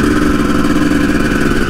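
Yamaha 250 YZ two-stroke supermotard engine running loud and close, a steady buzzing, crackling drone with no break and no talk.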